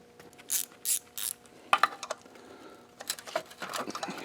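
A ratchet clicks in short bursts while loosening the connecting rod keeper on a Briggs engine, close metallic pawl ratcheting separated by brief pauses and some tool handling.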